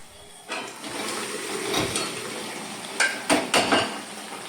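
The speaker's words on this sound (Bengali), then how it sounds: "একটু নাড়াচাড়া করে নেব।" Boiled potatoes in a spiced masala being stirred in a pan on a gas stove for a yogurt-based aloo dum, with a steady low sizzle and a few clanking spoon-on-metal knocks near the end.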